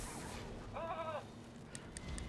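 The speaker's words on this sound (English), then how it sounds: "I feel like I need to get my sheep out. He's making so much noise" A single drawn-out bleat from a sheep character in the video game Skylanders Trap Team sounds over a steady background hum, followed by a few faint ticks.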